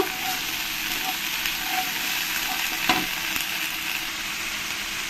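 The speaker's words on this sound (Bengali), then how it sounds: "এক চামচ আদা রসুন পেস্ট দিয়ে ভালো করে এই মশলার সঙ্গে আমি মিশিয়ে নেব" Ginger-garlic paste is stirred into hot spices in a pan for a pointed gourd (potol) curry, giving a steady, close sizzle of frying with faint scraping from the stirring and no talking.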